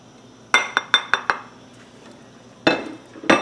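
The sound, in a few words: stirring spices into pasta e fagioli pot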